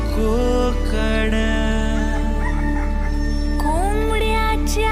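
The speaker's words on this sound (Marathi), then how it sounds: "कोंबड्याच्या आरवण्याचा आवाज" A rooster crows in a Kokan village near Ganpatipule, Ratnagiri, its drawn-out cock-a-doodle-doo rising and falling clearly over a dense backdrop of steady clucking and farmyard fowl.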